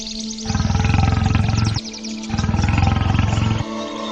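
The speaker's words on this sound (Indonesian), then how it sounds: "Aku yakin itu singa atau harimau pemangsa manusia." A lion or tiger roars twice, two long, loud, rough bellows, each about a second and a half, separated by a brief pause and echoing in an open setting.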